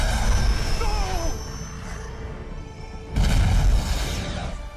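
A video game explosion from Skylanders: Spyro's Adventure, with loud low-frequency booms at the start and a fresh blast about three seconds in, heard alongside game music.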